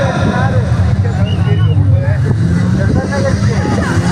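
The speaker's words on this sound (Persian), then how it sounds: "لذت ببری از صدای ماشین حمزه و اقتدار او" An off-road car engine drones steadily as it drives on a track, a continuous rumbling roar mixed with crowd noise and nearby voices.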